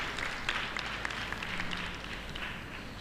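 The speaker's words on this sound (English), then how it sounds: "So a round of applause for yourselves." Audience applause in a conference hall during a panel at Social Media Week Lagos, a steady wash of many hands clapping at a moderate distance, fairly soft and sustained for a few seconds.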